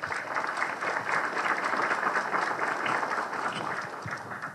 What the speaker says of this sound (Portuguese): uma salva de palmas aqui para eles.